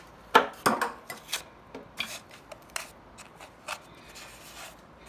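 Paper backing being peeled off a drywall repair patch, a series of sharp crackling rips and rustles, louder at first and then trailing into softer scattered tearing sounds, close and without talk.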